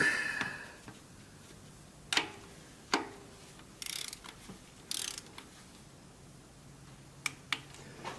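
Ratchet wrench tightening the last front valve cover nut on a Toyota 2.4 engine, heard as a few sparse, close clicks and short ratcheting bursts with quiet gaps between them.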